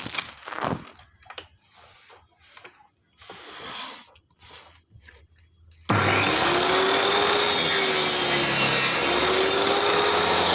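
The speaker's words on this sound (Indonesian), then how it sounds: "jadi amplas lah. Amplas dia." Wood being sanded with a power sander, preceded by scattered quiet handling noises, then a loud continuous whining buzz that starts abruptly and holds steady to the end.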